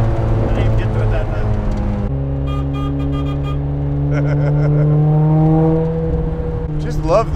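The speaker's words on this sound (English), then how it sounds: "Just love the sound of this car." A 1971 Lotus Europa with a 320 hp engine revving hard while driving, loud and close, its pitch climbing through each gear with a sharp drop at the shift.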